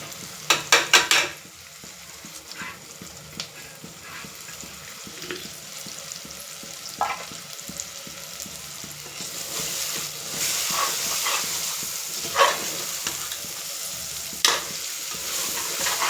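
Chili and coriander powder are stirred in a frying pan, giving a soft continuous sizzle with light scraping strokes of a spoon recurring every few seconds, close and fairly quiet.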